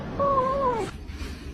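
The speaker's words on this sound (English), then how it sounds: "this cat screams at him" A cat lets out a loud, close, drawn-out scream that wavers and falls in pitch over about half a second, then breaks off into quieter room noise with no talking.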